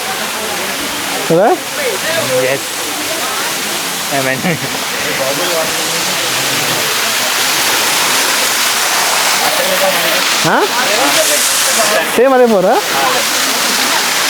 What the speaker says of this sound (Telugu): this is a beautiful water falls